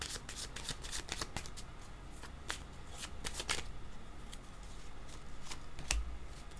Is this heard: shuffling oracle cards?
yes